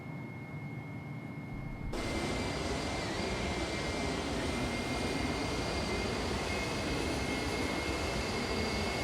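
IniBuilds A310 airliner in the X-Plane flight simulator, its jet engines producing a steady, loud broadband roar with a high whine that swells after a quieter opening and then holds constant.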